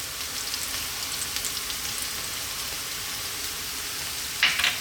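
Onions and garlic fry in a hot pan with a steady close sizzle, like light rain. A brief louder clatter of stirring comes near the end.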